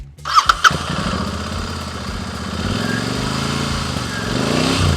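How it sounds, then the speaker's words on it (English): A few sharp clicks, then a Royal Enfield Interceptor 650 motorcycle engine cranks and catches, settling into a loud, throaty idle that revs up slightly toward the end. "I think we should crank up the engine."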